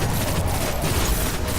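Gunfire from a weapon in the video game Destiny cracks out as a dense, continuous burst, loud and close, with rapid overlapping shots filling the whole moment.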